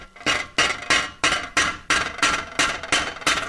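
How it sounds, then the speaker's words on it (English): A hammer strikes sheet steel lying on a hard surface, making about ten evenly spaced, sharp metallic taps in a slow, steady rhythm, each ringing briefly before the next. "Make sure the face of your hammer is pretty clean, because any imperfection in the hammer will transfer into the steel."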